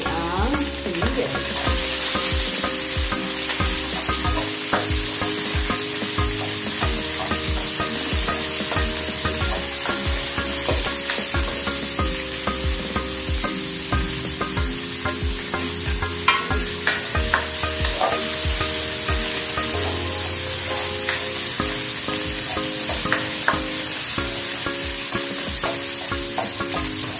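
Garlic, ginger and onion sauté for chicken curry, a continuous sizzle with frequent spatula scrapes, heard under steady background music.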